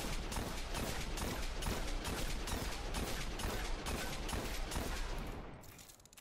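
Hawkmoon hand cannon in the Destiny video game firing a steady, rapid string of loud, sharp shots, around a dozen close together, that carries on without a break and then fades out near the end.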